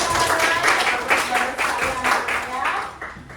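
A classroom of students clapping together after a presentation, a dense burst of many small hands in uneven rhythm, fairly close and loud, fading slightly toward the end.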